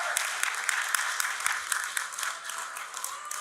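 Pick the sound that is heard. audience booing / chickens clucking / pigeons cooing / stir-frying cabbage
audience booing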